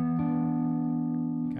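A slide guitar in open E tuning rings out a single sustained chord, clear and close, decaying slowly before a brief scrape at the end.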